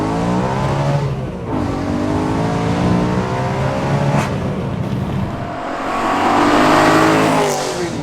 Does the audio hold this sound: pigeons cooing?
no